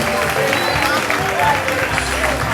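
Audience at a wax-fabric fashion show applauds the models, lively clapping mixed with crowd chatter and a voice talking over it.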